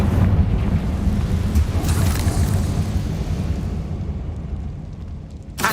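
A Confringo blasting spell erupts in Hogwarts Legacy with a loud, roaring explosion that rumbles on as a sustained low boom and slowly fades, with a fresh burst at the very end.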